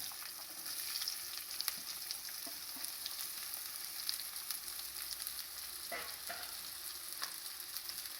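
Onions frying in hot coconut oil in a pan for a Kerala-style pork curry give a steady, close sizzle throughout, with occasional sharper crackles and no voices.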